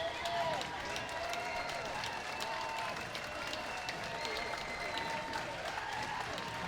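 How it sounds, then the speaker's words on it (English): A parade crowd at a Fourth of July celebration applauds a marching naval unit going by, steady clapping and some cheering heard from a distance, with people talking throughout. "Hear that applause."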